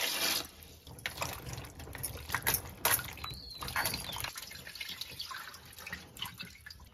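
Kokum fruits being rinsed clean in water, with splashing and trickling water sounds at a sink-like basin, moderately loud and continuous with intermittent splashes, no talking.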